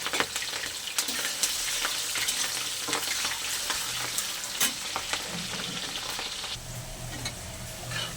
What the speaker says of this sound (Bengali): সব কিছু একসঙ্গে খুব ভালো করে একটু ভাজা ভাজা করে নেব।